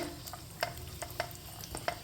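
Food frying in a non-stick pan for a broken wheat sweet, with soft crackling sizzle and several sharper spoon-stirring scrapes at a steady, close, moderate level.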